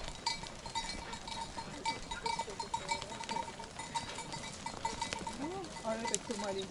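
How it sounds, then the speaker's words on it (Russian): Goats bleat now and then in a busy outdoor farmyard in Alanya, Turkey, several animals at mid distance running after their owner, over a steady background of activity. "Все козы бегут за хозяином."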